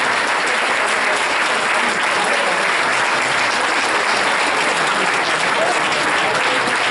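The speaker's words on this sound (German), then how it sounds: "das ist wirklich ein besonderer Applaus wert" Audience at a carnival stage event in North Rhine-Westphalia applauding, loud, dense and continuous clapping filling the whole stretch with faint crowd voices mixed in.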